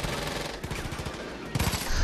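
A rapid burst of gunfire in the video game Far Cry 5, repeated cracking shots in quick succession over a steady background of game noise.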